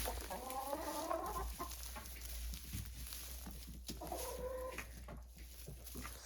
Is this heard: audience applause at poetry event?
no